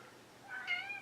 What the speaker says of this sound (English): It's one of my daft cats.